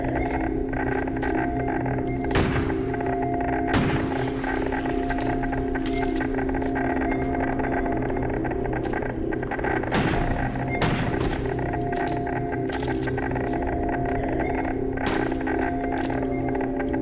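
Pistol shots in the survival-horror game Crow Country crack out as a handful of sharp, widely spaced reports over a steady, droning ambient backdrop.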